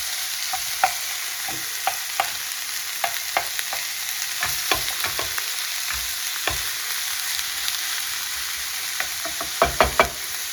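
Beef mince browning in a frying pan, a steady hiss of frying broken by frequent sharp taps and scrapes of a utensil stirring, louder clustered knocks near the end, no voices.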